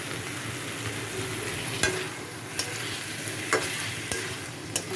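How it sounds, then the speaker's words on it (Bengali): Papaya curry being stirred in a pan after ghee and garam masala go in, a soft continuous sizzle broken by several sharp scrapes and knocks of the spoon against the pan. "এটাকে নেড়ে চেড়ে আমি নাড়িয়ে নামিয়ে নেব"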